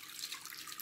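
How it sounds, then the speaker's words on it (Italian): Milk pours into the jug of a Monsieur Cuisine food processor, a quiet, steady liquid trickle and splash with no voices. "versiamo nel boccale i liquidi"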